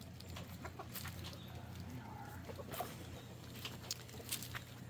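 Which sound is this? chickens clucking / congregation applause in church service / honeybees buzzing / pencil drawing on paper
chickens clucking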